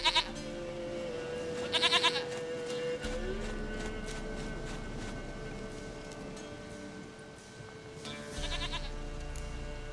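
A goat bleats in short wavering calls in the video game The Witcher 3: Wild Hunt, near and clear, repeating several times over a low steady background hum.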